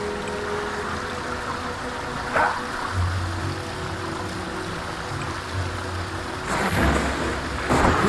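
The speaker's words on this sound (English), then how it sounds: "We'll begin by striking these strong dummies with lightning." Lightning bolts strike training dummies in the video game Fable, heard as a few crackling zaps and bursts over steady rain-like ambience, the loudest hits landing near the end.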